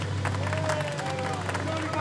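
A crowd claps for the overall race winner on the podium at a Mini Challenge round at Rockingham, a steady wash of applause under a commentator's voice.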